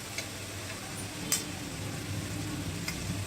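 Potato, carrot and capsicum fry in a pan with a quiet, even sizzle, broken by a few soft spatula taps and scrapes.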